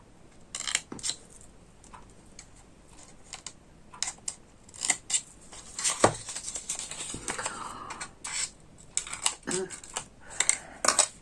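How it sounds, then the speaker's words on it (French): Scissors cut paper while a small notebook is customized indoors, giving sparse, irregular snips and light clicks at low volume, with brief quiet gaps between them. "On va couper."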